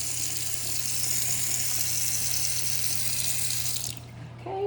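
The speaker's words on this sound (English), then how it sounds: "I'll show you guys the water pressure." Water runs steadily from a kitchen faucet for about four seconds, a close, even rushing hiss under a constant low hum, then cuts off abruptly near the end.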